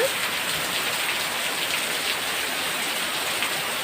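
Heavy rain from a storm pours down in a dense, steady hiss, constant and loud with no voices.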